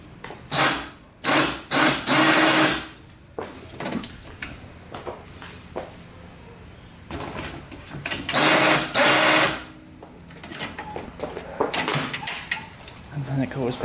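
A winch motor on a restored, formerly mouse-infested ATV whirs in repeated loud bursts of a second or two, spooling and stopping with quieter mechanical pauses between runs.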